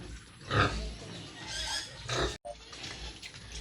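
Two-day-old piglets in a pen grunt, snuffle and smack wetly as they feed, with uneven bursts of close, moderately loud noise.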